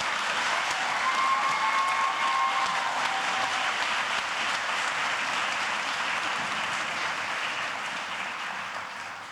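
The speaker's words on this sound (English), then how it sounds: "Please give a huge round of applause for Ms." Sustained applause from a ceremony audience fills the room for about nine seconds, steady and dense with no speech, easing slightly toward the end.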